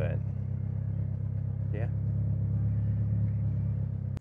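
Mitsubishi Evo X race car engine idling in traffic, a steady deep rumbling drone heard from inside the car, loud and constant, with a person speaking briefly over it.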